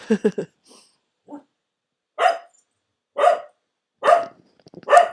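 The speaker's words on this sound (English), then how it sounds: "Now it's just general morning barking." A dog barks in short, separate bursts, a quick cluster at first and then single loud barks spaced about a second apart, with a few softer yips between.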